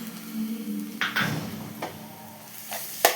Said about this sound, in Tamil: வெங்காயம் செவத்ததும் அரைச்சி வச்சிருக்க தேங்காவை போட்டு கிளறணும்